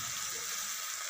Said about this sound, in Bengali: এবার আমি কচুর শাকগুলো দেব, এগুলো ছোট ছোট কালো কচু